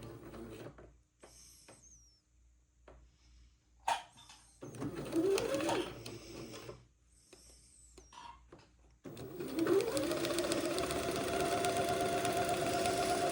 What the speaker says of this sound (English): in order to keep it from unsewing, I'm going to go forward and backward up here at the top